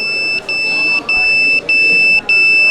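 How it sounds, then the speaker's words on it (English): Buzzer on an intravenous saline fluid level indicator beeping in a regular pattern, four short high-pitched tones evenly spaced about half a second apart, clear over a faint background hum. "Whenever the buzzer beeps, the nurse has to place a completely filled saline bottle."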